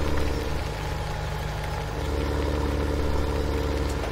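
A tractor engine in Farming Simulator 17, pulling a corn header and struggling, drones at a steady low idle-like rumble with a constant mechanical hum throughout, alone without talk.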